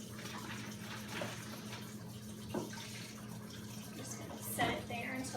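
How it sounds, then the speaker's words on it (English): Tap water running in a kitchen sink to rinse out an emptied milk container, a soft continuous splash with a few louder spatters, fairly faint. "so I'm going to rinse this out."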